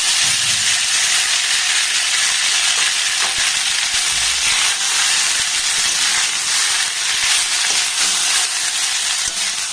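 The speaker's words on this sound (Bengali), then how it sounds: "তেলটাকে একটু ভালোভাবে গরম করে নেব। এবার সিদ্ধ করে নেওয়া নুডলসটার মধ্যে দিয়ে দেব।" Boiled noodles fry in hot oil in a home-kitchen pan, giving a loud, steady, dense hiss and sizzle that runs unbroken throughout, up close with no voices.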